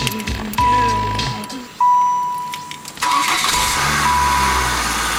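A 1995 Saturn SL1 car engine cranks and starts with a sharp onset, then settles into a steady idle, with someone talking over it close by.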